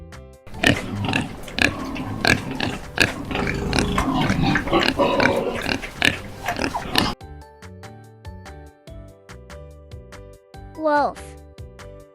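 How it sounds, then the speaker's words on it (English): A pig oinks and snorts in a run of grunts over a busy, loud farm backdrop for about seven seconds, then a child-oriented music bed with a rising synth swoosh follows. "pig."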